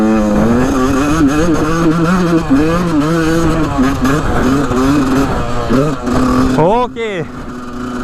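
A motorcycle ridden hard in a race, its engine revving and changing pitch near the microphone, then a sharp rising rev near the end; a rider talks and shouts over it.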